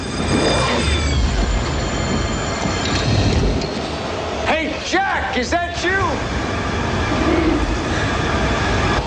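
A speeding subway train rumbles along with screeching, squealing wheel tones rising over steady rail noise, while a voice speaks briefly over it.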